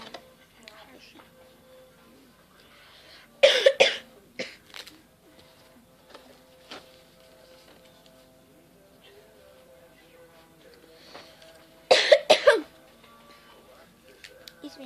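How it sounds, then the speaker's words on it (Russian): Two harsh bursts of coughing and throat clearing from someone nearby, about eight seconds apart, each loud and brief against a quiet room with faint background tones. "Извините, что кашляю."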